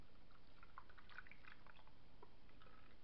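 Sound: pouring sauce

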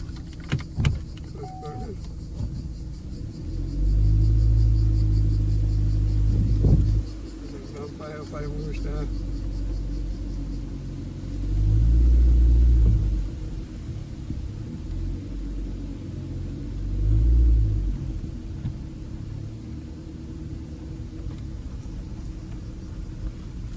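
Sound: car approaching and driving past

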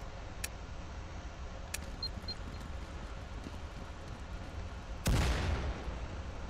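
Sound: explosion, maybe a bomb or C4, in the video game Firewall: Zero Hour

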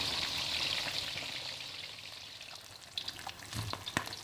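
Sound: fish frying in a pan

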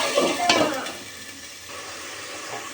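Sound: frying rohu fish head with spices in a pan

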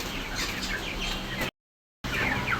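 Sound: chickens in a poultry farm

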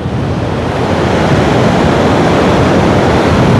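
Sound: stormy sea waves on the beach

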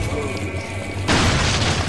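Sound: incendiary grenade explosion in Resident Evil 4 video game

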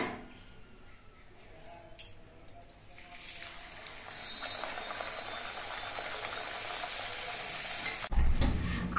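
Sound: pumpkin kachuri frying in hot oil

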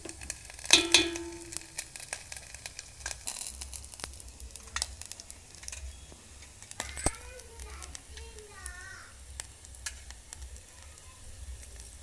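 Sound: herbs frying in hot hair oil on the stove

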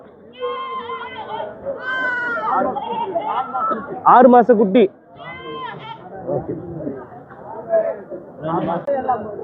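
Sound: goats bleating at livestock market

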